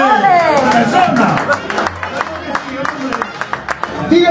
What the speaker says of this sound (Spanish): Persona, un aplauso